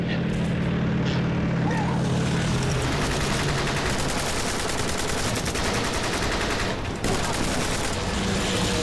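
Sustained gunfire in a World War II action film battle against Nazis, a dense continuous barrage of rapid shots with engine-like rumble beneath, briefly dipping near the end before resuming.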